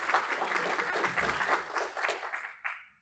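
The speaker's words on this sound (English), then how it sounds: "please, a round of applause for Fadia for joining us today." An auditorium audience at a business meeting gives a round of applause for a guest, a full burst of clapping that holds steady and then tapers off quickly at the end.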